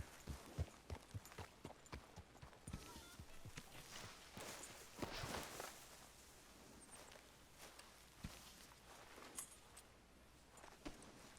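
A horse's hooves clop in the video game Red Dead Redemption, a faint, uneven run of soft thuds and footfalls with light rustling between them.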